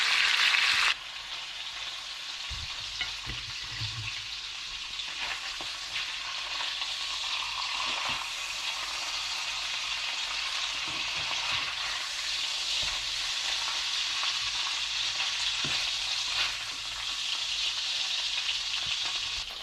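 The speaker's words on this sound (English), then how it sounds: "Lovely fried fish with some simple ingredients." Horse mackerel fries in a pan with a constant, fairly loud crackling sizzle that holds steady for the whole stretch, with no voices over it.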